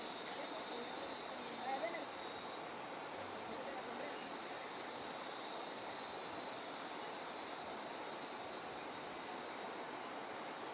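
River water rushes in a steady, broadband wash near the Remolino pool, a constant close roar with no pauses.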